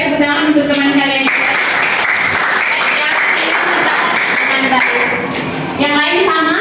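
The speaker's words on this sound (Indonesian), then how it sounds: "tepuk tangan untuk teman kalian" Schoolchildren in a classroom clap for a classmate, a brief loud burst of clapping and tapping with chatter and shuffling, followed by children's voices and talking.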